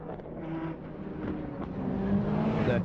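The lead race car at the 1999 Le Mans 24-hour race, a Viper, drives by with a steady engine roar that swells gradually louder, with no talk over it.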